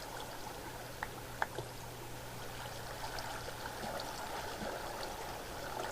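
Flowing water in the video game Minecraft, a quiet, steady stream-like trickle that runs continuously with a few faint clicks, and no speech.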